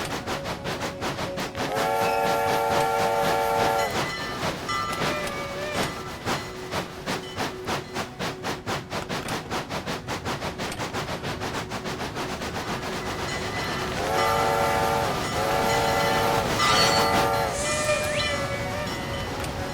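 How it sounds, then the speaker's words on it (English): A video game train rumbles past with a rapid rhythmic clatter, its loud multi-tone horn blaring at the start and again near the end. "I have to be very careful because we have the train coming through."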